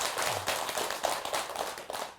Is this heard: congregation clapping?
yes